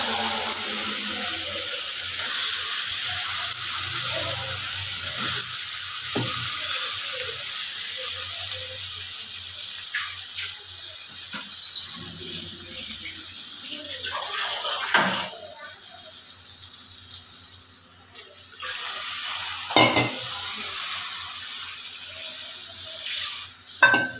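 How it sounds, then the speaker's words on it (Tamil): Onions and tomatoes sizzling in a pan as masala is added for a ladies finger tamarind gravy, a steady frying hiss with occasional stirring clatter, and someone talking over it. "வெங்காய தக்காளிலாம் நல்லாவே வதங்கிட்டு இப்போ நான் மசாலா சேர்த்துக்கலாம்."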